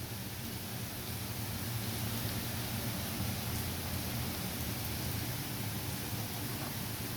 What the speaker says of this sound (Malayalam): മഴ ആയതുകൊണ്ട് പുറത്തോട്ടിറങ്ങുന്നില്ല.